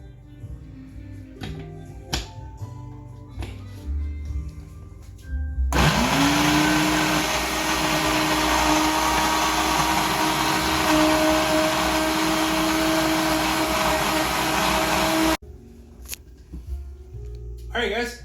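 A kitchen blender roars loudly at a steady high whir for about ten seconds, with muffled handling and clatter before and after.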